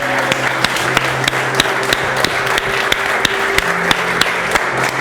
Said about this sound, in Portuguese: Vamos dar uma salva de palmas então para Jesus?